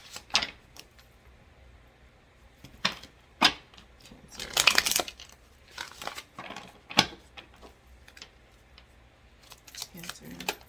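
Tarot cards being shuffled in short, crisp riffling bursts, with one longer flurry near the middle and scattered taps and snaps around it, close and fairly quiet.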